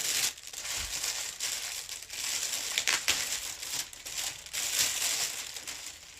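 Packaging crinkles and crackles up close as a genuine leather bag in a cardboard box is unboxed, with continuous rustling and crumpling and no speech.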